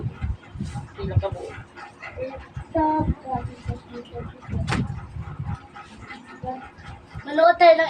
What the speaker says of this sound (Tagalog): Ay, aso ka?